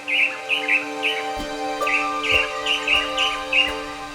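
A blue manakin (tangará dançador) in the forest of Serra dos Órgãos calls insistently, repeating short bright notes over and over at a steady pace, with other birds chirping lightly around it.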